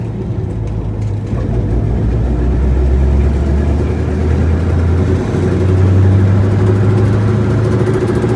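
A 1965 Ford Mustang coupe with a vibration problem drives in third gear. Its engine gives a loud, steady low drone and rumble that holds constant throughout.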